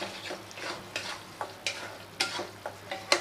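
A spatula scrapes and stirs spiced chicken bharta masala with garam masala in a hot pan, Kolkata dhaba style, about a dozen sharp strokes over a faint sizzle, with no voices.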